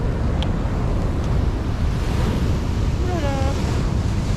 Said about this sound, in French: vagues sont énormes